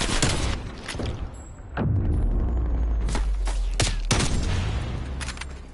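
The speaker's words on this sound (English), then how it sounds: "Seriously good play there by Kalexan as well with the sniper." Call of Duty Search and Destroy match gunfire, including sniper shots, heard as loud repeated blasts and heavy booms over a dense, constant game soundscape.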